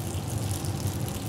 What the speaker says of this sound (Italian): Scoliamo la pasta, come abbiamo detto, al dente